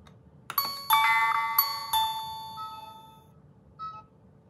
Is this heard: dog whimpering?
no